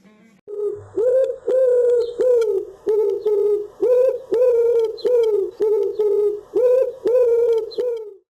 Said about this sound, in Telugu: మొబైల్కి ఏదో సమాచారం వచ్చిన గుర్తుగా కనిపించని పావురం కుహూ కుహూలు అవి